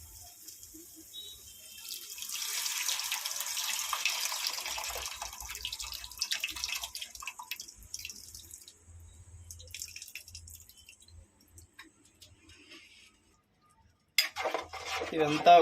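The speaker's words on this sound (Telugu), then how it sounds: "చింతపండు పులుసు పోసుకుందాం." Tamarind water is poured into a small-fish curry over fried ginger-garlic paste, a steady soft splashing pour running for several seconds before fading, followed by a brief clatter of utensils.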